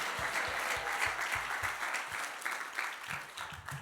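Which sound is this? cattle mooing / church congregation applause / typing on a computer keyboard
church congregation applause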